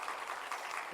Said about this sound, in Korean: 뜨거운 박수로 환영해 주시면 고맙겠습니다.